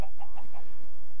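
Minecraft chickens give a short run of clucks, about four quick, clear, close clucks in a row, then a brief pause with low background hum.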